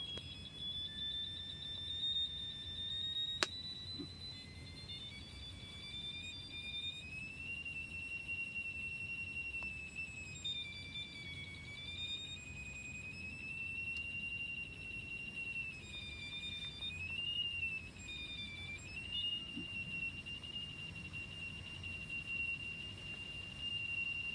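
A steady metal detector tone warbles and wavers in pitch for the whole stretch, scanning near an old mango tree, over a low rumbling background, with a sharp click near the start.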